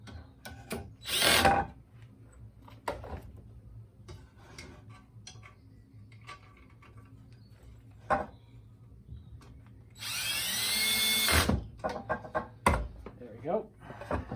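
A handheld power drill drives screws into the roof of a Flow Hive 2 beehive, giving two loud whirring bursts near the start and toward the end with quieter tapping and handling between, and a voice speaking at times.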